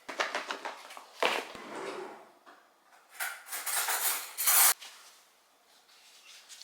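Utensils scrape and rub through a quinoa salad with feta, chickpeas, cucumber, carrots, onions, mint and lettuce, giving close, irregular bursts of clinking and scraping separated by quieter pauses.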